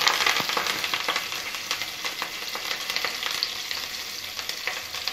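Coriander stems and curry leaves fry in hot oil for a tamarind-leaf curry, giving a steady, dense crackling sizzle with scattered sharper pops, close and fairly loud throughout, no voices.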